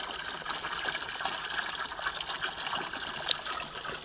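Water gushes from a tubewell pump in a field in a steady, dense rush that carries on evenly, with one brief splashy spike near the end.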